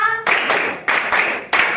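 Primary school children in a classroom clapping game clap together in three sharp, loud bursts at an even pace, each burst a close cluster of many small hands striking at once.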